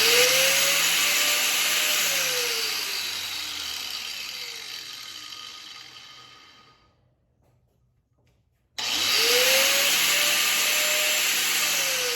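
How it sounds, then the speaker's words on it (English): Angle grinder spinning up and cutting into a metal bolt, a loud high whine that slowly sags under load, cuts off into a few seconds of silence, then abruptly restarts at full speed. "I should start the grinder and then touch the bolt"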